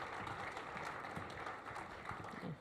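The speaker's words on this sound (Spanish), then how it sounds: "Aplauso para Joaquín." Steady, dense applause from an audience welcoming a speaker to a talk on personal data protection in Latin America and the Caribbean, a soft continuous wash of many hands throughout.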